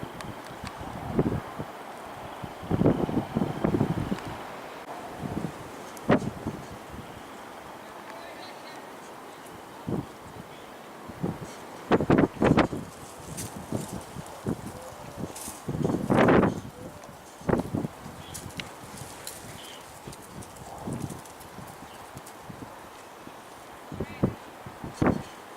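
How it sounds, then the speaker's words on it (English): Strong storm winds gusting across the Saskatchewan prairie at sunset, buffeting the microphone in irregular rumbling bursts beneath frequent talk. "winds all of a sudden really picking up just in the last 30 seconds here"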